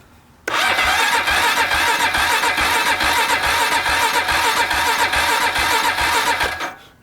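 A worn $500 Honda Rancher 350 quad engine cranks and catches abruptly, then runs with a loud, close, steady pulsing idle for about six seconds before cutting off.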